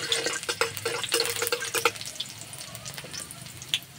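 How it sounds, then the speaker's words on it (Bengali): Chopped garlic sizzles in hot white oil in a wok, a bright crackling spatter with sharp pops that is loudest at first and then settles into a softer, steady fry. "তেলে দেবো রসুন কুচি,"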